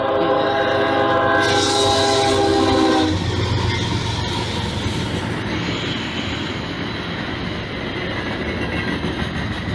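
An Amtrak train led by P42DC locomotives with coaches sounds a loud, close horn for about three seconds, then rolls past with a steady rumble and rail clatter.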